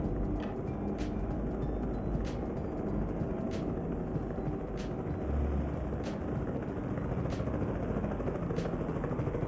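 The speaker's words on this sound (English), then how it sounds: "There's a helicopter flying by." A helicopter in the trucking game American Truck Simulator drones steadily overhead, a continuous rotor rumble with faint rhythmic beating that holds at a moderate, fairly distant level for the whole stretch, with no talk.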